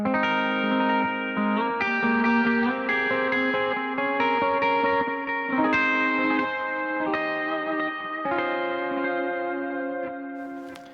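Electric guitar chords ring out through a Line 6 Helix wide stereo effect, spreading left and right with a spacious chorus-like, echoey shimmer, played steadily and loudly with no talking.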